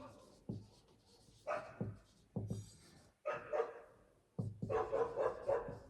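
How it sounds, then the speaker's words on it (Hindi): Several dogs bark outdoors in a residential setting, a few sharp barks and short bursts spread across the stretch, fairly distant and moderate in level, with a voice talking faintly at times. "डॉगी बहुत है एक तो बाहर"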